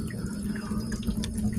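Water rushes steadily from an RV black water tank after the dump valve is reopened, a continuous, fairly loud gushing flow with no pauses.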